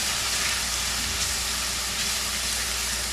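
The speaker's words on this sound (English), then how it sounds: "And then we're going to just saute that for a couple minutes." Minced garlic sautés in a hot pan with a dense, even hiss that holds constant and close for a few seconds, no voices over it.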